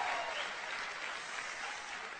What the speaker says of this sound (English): please give me a big loud round of applause